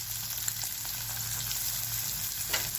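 Chopped onion and garlic sautéing in a pan, giving a continuous close sizzle with a few light stirring scrapes and no speech.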